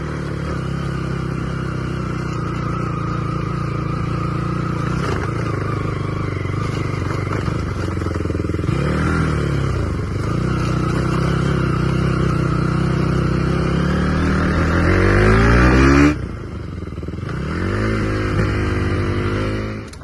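A motorcycle rides along an off-road track, its engine droning steadily and close, climbing in revs toward the end before briefly cutting out and picking up again.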